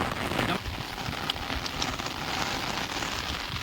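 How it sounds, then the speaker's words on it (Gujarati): Heavy rain pours down continuously, a dense, steady hiss of drops on surfaces with no letup. "આ સવારનો વરસાદ એક જ ધારે ચાલુ છે."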